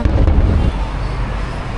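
A fireworks display bursts in the night sky over Da Nang, Vietnam, with a few booming pops up front that trail off into a distant rumbling decay, crowd noise faintly beneath.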